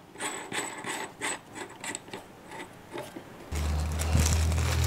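A spade drill bit is fitted into the chuck of a Scheppach DP55 bench drill press, making a run of quick metallic ratcheting clicks as the chuck is turned. A louder, steadier mechanical rumble follows near the end.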